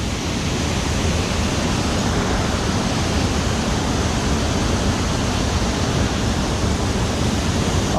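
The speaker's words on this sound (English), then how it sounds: "Look at that big raging torrent." A big raging waterfall torrent in Ramsbottom roars in a loud, constant, dense rush of water with no pauses and no voices.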